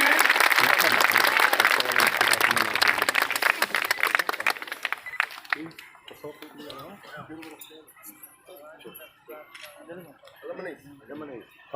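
Dense clapping from a crowd at a ceremony honouring an MLA, loud for several seconds, then thinning into scattered claps as a voice speaks over it.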